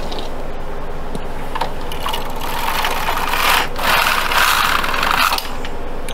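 A Superba knitting machine carriage runs a row left to right across a double bed set up for three-colour jacquard, giving a steady mechanical rumble and rubbing clatter with a slight rise in the middle of the pass.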